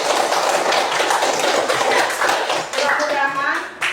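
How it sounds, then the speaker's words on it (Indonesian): A classroom group of students claps together after group presentations, a dense burst of overlapping hand claps under a voice, fading toward the end. "Tepuk tangan dulu bersama-sama."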